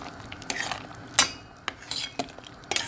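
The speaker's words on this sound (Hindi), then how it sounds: "अब हम इसको अच्छी तरह से" A spoon stirs vegetable soup with oats in a pot, close by, with scraping and clinking strokes in an irregular rhythm.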